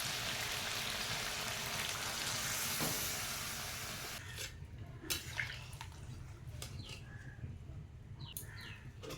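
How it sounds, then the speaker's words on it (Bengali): Water poured into a pan of seared chicken curry meat glistening with released oil: a loud hissing sizzle for several seconds that fades into scattered soft pops and bubbling drips. "মাংস আমার কষানো হয়ে গেছে মাংসগুলো তেল ছেড়ে দিয়েছে এবার জল দিয়ে দেবো"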